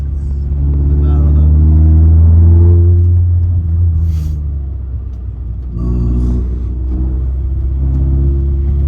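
A car engine rumbles loudly up close and rises in a sustained rev, then settles back to a steady idle, with interior cabin noise around it.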